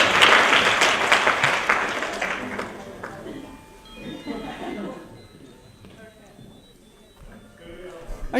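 Audience applause at a design event, loud and dense clapping from a crowd for the first few seconds, then thinning to scattered claps that swell again at the end.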